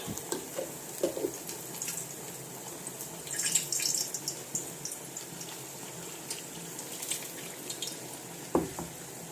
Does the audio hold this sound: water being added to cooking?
yes